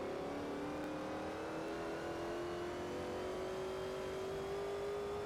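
A race car engine in Forza Motorsport 4 accelerates, its pitch climbing steadily in one long rising whine that sounds moderately distant and fairly quiet, with no one talking.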